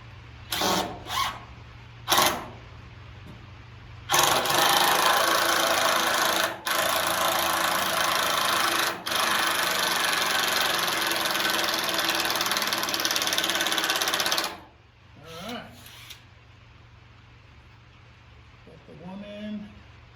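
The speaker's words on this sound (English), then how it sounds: "over here on this side, we're going to put in 2 fastening screws" A power driver sets fastening screws while a chicken coop is built, first a few short bursts, then a long, loud, grinding run of about ten seconds with brief pauses, followed by quieter handling noise.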